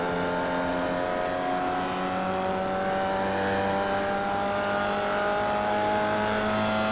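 A Formula Vee race car in iRacing at Okayama circuit drones steadily through its engine note under braking and a downshift, the tone sliding gradually, with faint tire noise and no talking.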